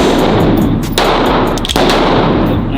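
Two loud, close gunshots ring out at an indoor gun range, about a second apart, each a sharp crack over a constant noisy background.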